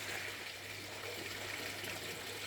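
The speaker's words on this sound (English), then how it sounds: "she's actually making more noise by splashing around in the pool at the moment than they do normally" Duck splashing around in a garden pool, a steady close wash of water splashing and trickling that carries on without a break.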